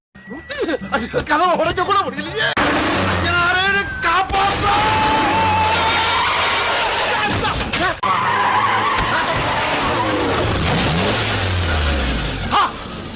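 A car skidding with drawn-out tire squeals and engine noise amid loud commotion and shouting voices, the squeals rising and falling over several seconds.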